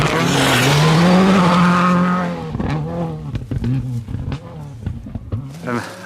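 WRC rally car at speed on a dusty gravel stage in Sardinia, Italy, engine roaring loudly as it sweeps close past and fades, followed by scattered clatter and gravel noise with talk over it.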